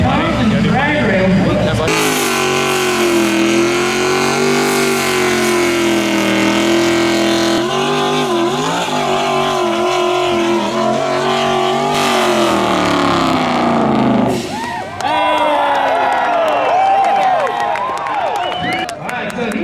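Drag race cars on drag radials rev and roar at a burnout contest, loud and close. A sustained high engine wail shifts pitch and gives way near the end to rougher bursts of revving, with voices partly heard under the noise.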